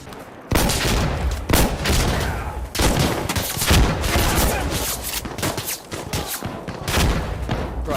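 Shotgun blasts ring out in the tactical shooter game Insurgency: Sandstorm, dense and repeated, mixed with other gunfire and footsteps throughout a chaotic firefight.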